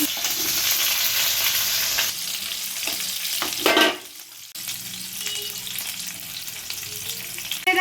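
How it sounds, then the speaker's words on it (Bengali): Diced onion and capsicum fry in hot oil with a loud, close, continuous sizzle. Spatula stirring and scraping pass over it, followed by a short dip near the middle before the sizzle returns. "ওই একই তেলে ডুমো ডুমো করা কাটা পেঁয়াজ আর ক্যাপসিকাম"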